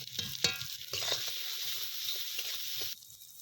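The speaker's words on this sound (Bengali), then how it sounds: "মশলাটা ভাজা হয়ে গেছে কি সুন্দর সেন্ট বেরিয়েছে" Ground spices, namely salt, turmeric and Kashmiri chili powder, fry in a pan with a close, steady sizzling hiss and occasional stirring scrapes, continuing unbroken until the sizzle drops away abruptly near the end.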